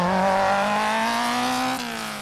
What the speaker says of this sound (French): 12 concurrents auto se sont affrontés deux par deux dans un circuit fermé au